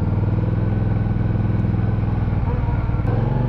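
A Benda Chinchilla 450 V-twin cruiser motorcycle on its stock exhaust pipe holds a steady, loud, close idle. The throbbing pulses are even, with a slight change in note near the end.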